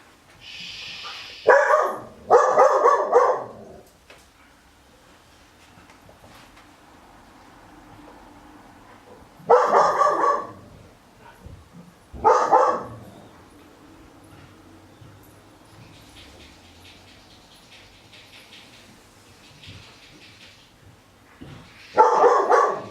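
An adopted dog, adrenalized in a new home, barks in several loud bursts spaced across the scene, with quieter rustling and room noise between them; no one speaks over the barks.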